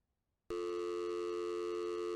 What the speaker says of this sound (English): And the dial tone sounds normal.